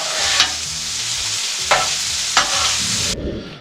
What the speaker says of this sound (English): I'm going to flip these bacons one more time. They are almost good and crispy.